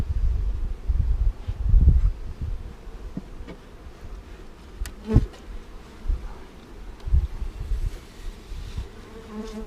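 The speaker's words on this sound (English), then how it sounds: "So there are bees, look, they're storing in there." Bees from a large swarm buzz at a colony, a dense, close insect hum with individual bees droning past the microphone, plus light wind and handling bumps, without speech.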